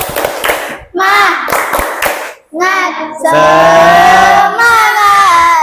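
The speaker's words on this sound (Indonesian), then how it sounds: "ayo kita tepuk semangat lagi. Tepuk semangat." A classroom of children claps a patterned rhythm in sharp bursts while chanting loudly together between and over the claps.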